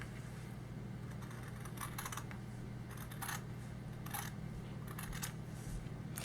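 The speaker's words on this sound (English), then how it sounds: "The fabric is gonna be, yeah, same, 4 inches. I'm gonna cut right here." Scissors cut a 4-inch strip of fabric for a DIY Easter basket craft, with a few quiet, crisp snipping clicks spaced apart over a soft, steady background hum.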